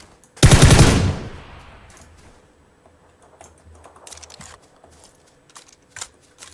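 Video game gunfire, one loud close burst of rapid shots that trails off, followed by quieter clicks and faint game sounds.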